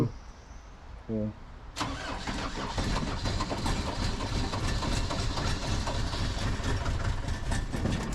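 A Mercedes 208 diesel van engine cranks briefly, then catches and runs with a rough, steady rattling idle that continues to the end.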